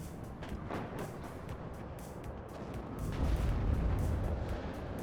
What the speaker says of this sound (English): There's that Uragan firing.